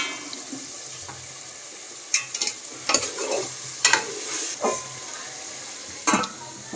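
Chicken biryani bubbles in a pot whose lid is lifted and set back. Hissing, bubbling bursts come and go alongside the scrape and clatter of stirring, close by and moderately loud, with no talking.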